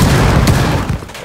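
A loud, dense burst of gunfire in Rainbow Six Siege, rapid close shots crackling for about a second before tailing off, with no talk.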